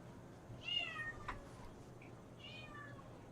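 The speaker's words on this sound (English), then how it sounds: "That's why you can hear the cats and the rest of the house." A cat meows in another part of a house, two separate calls with a short gap between them, faint and slightly distant under a steady background hiss.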